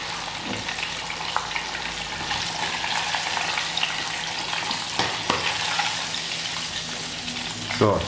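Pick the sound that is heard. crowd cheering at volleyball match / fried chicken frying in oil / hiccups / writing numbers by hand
fried chicken frying in oil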